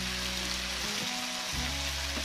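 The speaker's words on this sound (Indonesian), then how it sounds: "Kita aduk-aduk lagi sampai bumbunya ini panas." Spice paste sizzles steadily in a nonstick pan while being stirred, a continuous close hiss with a brief dip in the middle, no talking.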